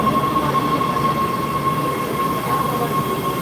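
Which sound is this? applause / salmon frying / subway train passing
subway train passing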